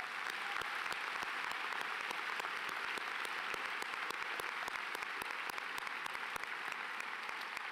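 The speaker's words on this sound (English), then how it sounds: "Please give them a round of applause." Sustained crowd applause fills a high school graduation ceremony hall, dense steady clapping from a large audience with no break throughout.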